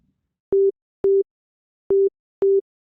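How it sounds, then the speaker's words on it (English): A steady sine wave tone from the Serum synthesizer beeps four times in short, evenly shaped pulses, two close pairs separated by a gap of silence. "So we've got our sine wave."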